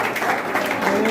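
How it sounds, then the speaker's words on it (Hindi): An audience claps steadily at a pigeon tournament prize distribution in Parbhani, the dense applause continuing under an amplified announcer's voice. "तालियों से इनका स्वागत करें"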